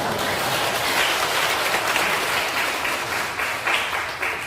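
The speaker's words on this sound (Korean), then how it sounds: "박수 치신 분들은" A church congregation at a revival service bursts into steady, dense applause, loud and sustained from start to finish with little else audible.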